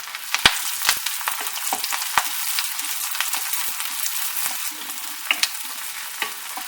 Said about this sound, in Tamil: தேங்காய் செவக்க ஆரம்பிச்சதுக்கு அப்புறமா சின்ன வெங்காயத்தை ஆட் பண்ணிக்கோங்க